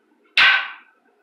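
Zulu fighting sticks strike a cross guard in one sharp, loud wooden crack that rings briefly before fading into silence.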